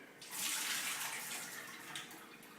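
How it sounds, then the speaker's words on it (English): Water pours and splashes steadily as soaked beans are drained through a strainer into a sink, close and moderately loud, with no voices. "you take them with a strainer and"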